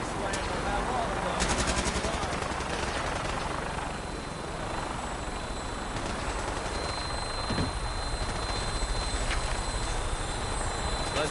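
A Vertibird lifting off in Fallout 4 gives a loud, steady rotor-and-engine roar with a constant whine. Speech-like sound runs faintly underneath.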